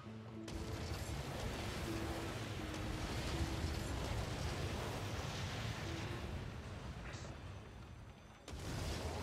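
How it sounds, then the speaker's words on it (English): Fireworks set off in the city-building game SimCity set off a dense, continuous roar of crackling blasts and rumbling booms that stays loud for about eight seconds, then cuts briefly before resuming. "So that whole fireworks thing was a terrible, awful idea, huh?"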